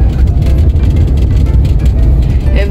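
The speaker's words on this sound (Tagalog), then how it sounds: "Fortuner na Fortuner talaga. Tunog. Tunog ng makina." A Toyota Fortuner's engine runs at a steady idle nearby, giving a loud, continuous low rumble with no change in pitch for the whole stretch.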